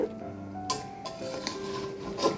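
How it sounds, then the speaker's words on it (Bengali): A spoon scrapes and clinks against a pan while thick, sticky, sugar-based mango pickle is stirred and turned. Brief clatters and rubbing sounds play close and fairly quietly, with a few sharp metallic taps. "আর একটু জাল করে নিই নেড়ে চেড়ে দিই উল্টায় পাল্টায়ে"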